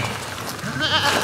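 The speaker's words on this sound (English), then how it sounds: "the 3 Billy Goats Gruff got their food" Goats bleating at feeding time in a farmyard, several wavering cries overlapping close by and fairly loud over a steady background murmur.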